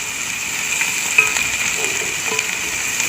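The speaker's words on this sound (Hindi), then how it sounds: "थोड़ा सा भूनेंगे इसको ताकि इसकी खुशबू आने लगे।" Garlic and ginger fry in a hot pan with oil, giving off a steady, close sizzle with a faint scrape of stirring partway through.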